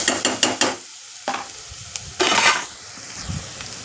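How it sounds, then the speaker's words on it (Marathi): Masala for a sprouted moth bean pulao fries in a pan, with a quick run of metal spatula taps, then scattered scrapes and stirring over a low sizzle, close by. "व्यवस्थित हा मसाला फ्राय करून घ्यायचा आहे."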